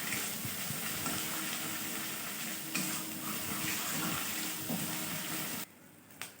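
Ginger garlic paste fries in a pan on a home stove with a steady soft sizzle. Scraping stir strokes cut through it, and it turns quieter near the end.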